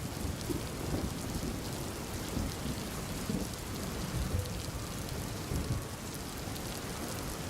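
Steady, heavy rain pours down on a stormy night, with low rolling thunder rumbling through the downpour at a constant, close and full level.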